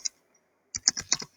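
Close, crisp typing on a computer keyboard while code is entered: one lone keystroke, a pause, then a quick burst of about five clicks, with no one talking.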